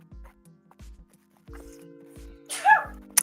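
A person sneezes once, sharp and close, near the end of a quiet indoor stretch broken by faint soft thumps and shuffling.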